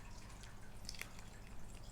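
Water dripping from an opened jelly toy, a faint soft patter of small drops over a steady low background hum, with a brief brighter drip near the middle.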